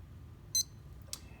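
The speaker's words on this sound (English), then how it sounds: "once you hear that beep" A single short electronic beep from a Nixon High Tide watch, quiet and close, followed a moment later by a faint click against a low background hum.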